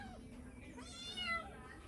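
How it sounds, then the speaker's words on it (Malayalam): A house cat gives a single drawn-out meow midway, faint and fairly close, over a low background hum. "അതാണ് പൂച്ച ഞെളിയുന്നു"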